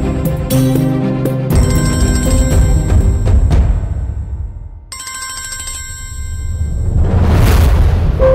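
A telephone rings loudly and repeatedly without being answered, its bright electronic ringtone pattern cycling through several bursts over a low background rumble indoors.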